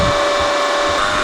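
A DC shunt motor runs steadily at no load during a load test, its speed set by a field rheostat, giving a continuous loud hum with a strong sustained tone and broadband whirring.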